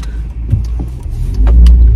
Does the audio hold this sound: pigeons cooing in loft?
no